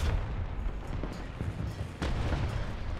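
War Thunder tank cannon firing HE shells, heavy booming blasts with a strong one near the start and another around two seconds, amid rumbling battle noise.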